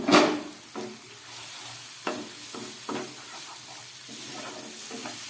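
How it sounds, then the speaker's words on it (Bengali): Spice paste for eggplant paturi cooks over a low gas flame, giving a soft sizzle with a few brief scraping stirs and a light crackle, faint and close, with no talking. "একদম গ্যাসটা কমিয়ে আমি এটাকে কষিয়ে নিচ্ছি মশলাগুলোকে"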